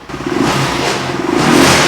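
A motorcycle engine revs up and holds a loud, rough roar, climbing again toward the end with some rattling from a loose Harbor Freight part rather than the exhaust.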